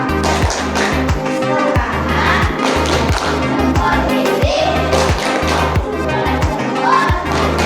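A class of sixth-grade pupils at an Indonesian elementary school performs a rhythmic 'tepuk salut' clap in unison, loud, close and patterned, with steady repeating beats and a few stray voices underneath.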